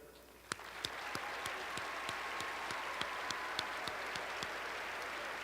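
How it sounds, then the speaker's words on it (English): At a high school graduation ceremony, an audience applauds National Honor Society graduates with steady crowd clapping, punctuated by a few louder, evenly spaced claps close by. "please stand while we applaud you for your extra effort"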